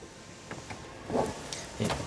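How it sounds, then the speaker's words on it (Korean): A car trunk unlatches with a soft mechanical clunk and brief whir, then a second thump as the lid lifts on a Hyundai Grandeur TG large sedan; quiet, close, no voices. "트렁크 열어서 한번 같이 살펴보도록 하실게요."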